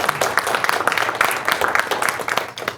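A modest crowd at a Grand Rapids presentation gives speaker Nolan another round of close, loud clapping, dense and fairly steady with individual claps popping out, sounding without any talk over it.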